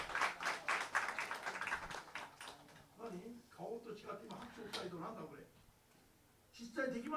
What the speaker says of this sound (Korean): 지금 박수 치신 분들 실제로 그렇게 할 수 있습니까?